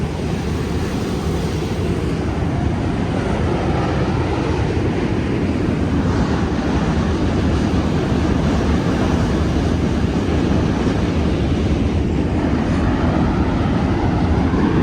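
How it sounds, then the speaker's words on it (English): A subway train crosses a bridge over the water toward Manhattan from DUMBO, Brooklyn, a steady, broad rumbling roar blended with wind and waterside ambience, continuous and fairly loud throughout with no talking. "That's the subway crossing over to Manhattan."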